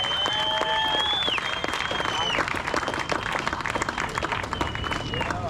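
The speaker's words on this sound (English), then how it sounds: "And a big round of applause for the man that ripped in the division, Trevor Hansen from Nelson Mandela Bay." An audience at a surf contest prize-giving in Victoria Bay applauds steadily, mixed with whistles and cheering from the crowd, with background chatter running underneath.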